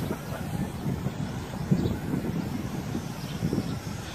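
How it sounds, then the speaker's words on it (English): Strong outdoor wind gusts past a construction yard gate, a constant rough rumble buffeting the microphone with brief louder blasts, close and steady throughout. "this wind is notorious for trying to blow my stuff over this construction yard gate here"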